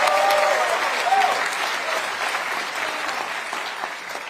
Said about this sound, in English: Give Liam a round of applause.